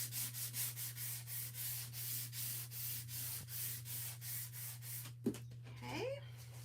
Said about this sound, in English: just sand lightly the white area. Just kind of smooths out the paint a little bit better.